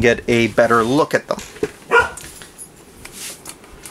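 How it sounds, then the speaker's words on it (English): A deaf dog barks a few times close by, with yelping, whiny tones, while a person talks over it. "He barks at everything."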